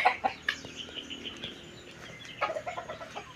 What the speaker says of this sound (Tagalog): Kapag patuka na po ng manok.